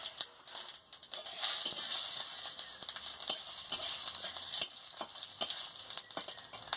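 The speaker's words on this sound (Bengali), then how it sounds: "5 ফোড়ন দিয়ে দিচ্ছি।" Panch phoron spices fry in hot oil for a pumpkin-greens ghonto, a continuous sizzle with scraping and clinking from stirring, close and fairly quiet, without speech.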